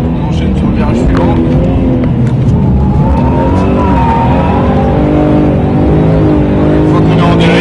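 A BMW M3 drifts on a circuit, its engine revving loud and close and rising and falling through the slide, with tyre noise mixed in and talk over the whole run.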